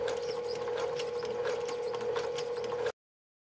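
A sewing machine stitches a rag doll seam with a narrow seam allowance, running as a steady, continuous mechanical whir with fast rhythmic ticking for about three seconds before cutting off abruptly.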